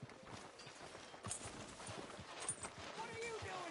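Horse hooves clip-clop at a steady walking rhythm in Red Dead Redemption 2, soft and fairly quiet, with light background game ambience.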